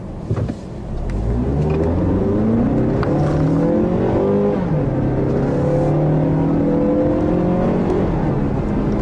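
A 2015 Mazda CX-5 accelerates hard, its engine note rising steadily through the gears with a brief dip at a shift midway, loud and close from inside the cabin with no talk.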